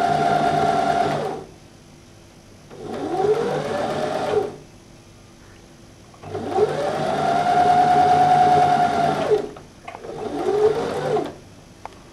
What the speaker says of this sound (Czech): Takže šijeme první 2 části.